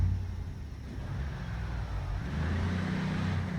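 A car engine idles in Project Zomboid, a low steady rumble that grows slightly louder partway through, with no talking.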